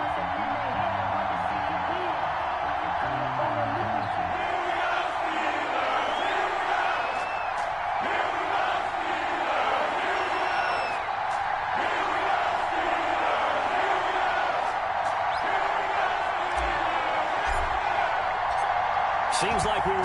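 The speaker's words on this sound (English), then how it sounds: "This crowd is ready as their guys get set to match up between the Philadelphia Eagles and the Pittsburgh Steelers." Dense stadium crowd roar and cheering in an EA Sports football video game for an Eagles versus Steelers matchup, loud and sustained throughout with whoops, under a commentator's voice.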